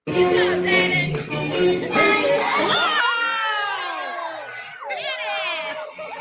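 A crowd of children and adults cheers and shouts loudly at a second-grade school Christmas concert at Beechwood Elementary in Menlo Park as a boy dances, with excited high voices rising and falling throughout.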